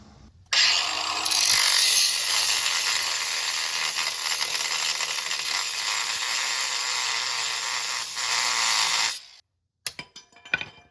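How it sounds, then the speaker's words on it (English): A power tool cuts off an old steel stabilizer bracket during an off-road steering and track bar install, with a loud, continuous grinding whine lasting about nine seconds before it stops, followed by a few metallic clanks. "You're also supposed to cut off the old stabilizer bracket, so I'm gonna do that now."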